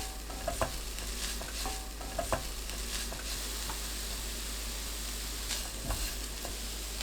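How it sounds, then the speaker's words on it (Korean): Dried radish strips stir-fried with perilla powder and green onion, a soft, low sizzle under light scraping and tapping of a spatula against the pan, with a few small clicks now and then. "들깨가루 2큰술, 파 넣고 1분 볶습니다."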